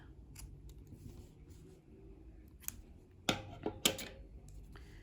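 Scissors snipping crochet yarn while finishing a crochet coaster, two crisp close cuts after a few faint handling taps in a quiet room.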